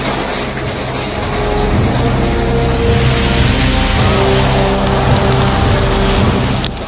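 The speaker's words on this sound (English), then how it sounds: "Rain coming down in buckets in Baltimore." Heavy rain pours down in buckets during a summer storm in Baltimore, a loud, dense and continuous roar of water hitting surfaces with no pauses across the whole stretch.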